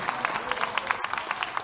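A church congregation applauds in praise, brisk rhythmic clapping from many hands close by, with a voice over it.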